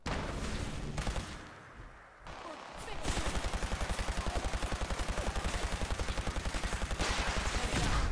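Rapid automatic weapon fire and explosions from an enemy shooting rockets in Fallout 4 survival mode, a dense, loud rattling barrage that continues steadily after a brief lull.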